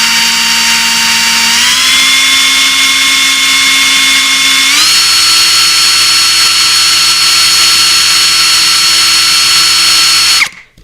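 Steady, loud whine of a KAMOLEE cordless drill used as an ice auger, spinning at first speed, with its pitch stepping up twice before the motor cuts off abruptly at the end; no talking.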